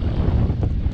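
Wind gusts over a boat on Lake Vänern during pike fishing, a loud, constant low rumble of buffeting wind against the microphone with faint water noise beneath and no speech.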